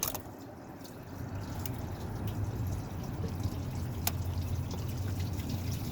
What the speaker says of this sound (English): As you can hear, the water is leaking down. It's catching it on the pan under there.